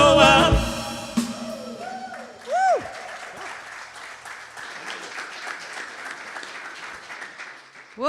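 Applause from a congregation at a Sunday celebration service of a spiritual living center, moderate and steady under a mix of other tones and a brief sliding sound, fading gradually toward the end.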